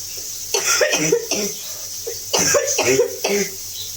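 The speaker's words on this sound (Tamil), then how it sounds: "நடுவில் இருமல் வந்துட்டே இருக்கு" A series of close, harsh coughs in two clusters, each a few rapid bursts, separated by a short pause.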